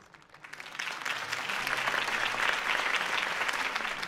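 Applause from a crowd in the video game Batman: The Telltale Series swells up from quiet and holds steady, dense clapping from many hands, moderately distant.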